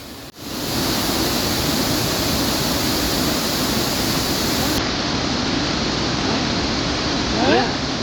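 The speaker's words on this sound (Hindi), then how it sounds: "झरने की आवाज़ सुनने में भले ही तेज लग रही हो" A waterfall rushes over rocks in Yumthang Valley, a loud, dense, steady roar of falling water close by, continuous throughout with no voices.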